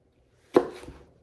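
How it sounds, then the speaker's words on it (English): A single knife chop through a jalapeno on a cutting board, one sharp close thud with a short tail, alone in quiet. "And I'm just going to chop it up"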